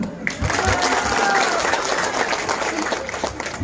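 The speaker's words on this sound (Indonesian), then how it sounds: "Tepuk tangan." Villagers in Mohungo, gathered at Lahmuddin Hambali's constituency recess meeting, break into a few seconds of lively, close clapping, steady throughout with a slight swell near the end.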